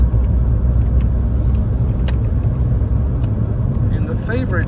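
A 2005 Saab 9-5 on the road, with a steady low engine and tyre rumble filling the cabin throughout, and someone talking over it.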